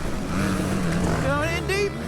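A 47-year-old 125cc two-stroke motorcycle racing on a dusty track amid modern four-strokes, its high, rising engine whine carrying through a loud, busy mix under a voice talking.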